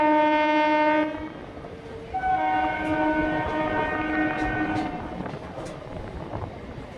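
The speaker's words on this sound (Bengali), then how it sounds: "দেখতে পাচ্ছ বর্ধমান জংশনে আমাদের ট্রেন ঢুকছে" A new EMU local train pulls into Burdwan junction station, sounding repeated loud horn blasts over the rumble and rattle of the carriages, the horn pausing briefly before resuming and then fading.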